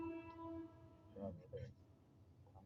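A slow-moving train sounds a steady, tonal horn for under a second near the start, followed by a low rumble of the train with voices talking nearby.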